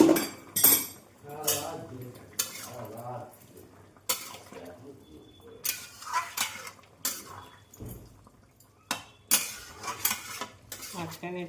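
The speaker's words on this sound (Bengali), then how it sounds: "মাঝখানে একটু নেড়ে দিলাম" A spoon stirs curry in a pot, making repeated scraping and clanking strokes against the metal, close and fairly loud, with a voice speaking between the strokes.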